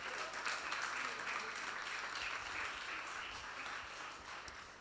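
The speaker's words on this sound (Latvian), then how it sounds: "Sagaidīsim ar aplausiem" Audience applause welcoming a speaker at a gathering for a personal testimony, a steady wash of many hands clapping at moderate distance, sustained throughout without a break.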